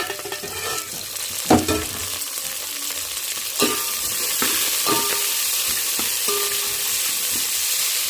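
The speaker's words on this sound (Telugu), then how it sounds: "ఇప్పుడైతే మూత తీసి వాటిని బాగా తిప్పేస్తున్నాం" Food frying in a pan is stirred, with repeated scraping strokes and bursts of clatter over a steady close sizzle, and no voices.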